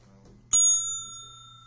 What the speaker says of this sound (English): Don't make me ring the bell again.